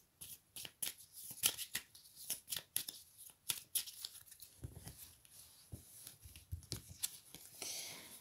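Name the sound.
shuffling oracle cards to draw a card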